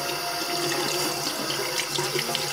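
Steady hiss of water running from a tap, continuous and fairly loud throughout, with no voices.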